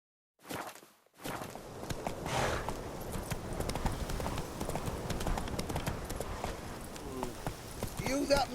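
Horse hooves clip-clop steadily at a walking pace in The Witcher 3 after a short silence, a close, continuous rhythmic clatter with ambient game sound underneath and a brief voice near the end.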